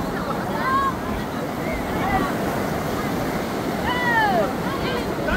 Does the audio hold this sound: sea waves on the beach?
yes